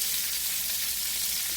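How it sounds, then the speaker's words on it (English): Food fries in grease in a pan on a lopsided stovetop, a steady, close hiss and crackle of sizzling oil that carries on without pause and without talk. "But these are frying along nice."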